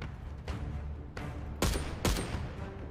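Enemy sniper gunfire in Contraband Police: four sharp shots a half second or so apart, the last two louder and closer, ringing over a steady background rumble with no talk.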